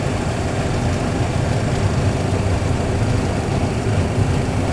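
Aircraft engines run at takeoff thrust as a dense, steady roar with heavy low rumble, continuous and loud, without any voices.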